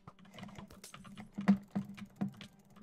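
Rapid computer keyboard typing and mouse clicks during a Skywars game, close and crisp with irregular bursts of keystrokes and a few sharper clacks, no voice.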